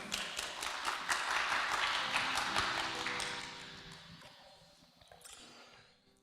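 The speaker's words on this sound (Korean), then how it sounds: "박수로 맞이하실까요?" Applause from a church congregation at a Sunday worship service, a dense patter of clapping that fills the room and then gradually thins and fades toward the end.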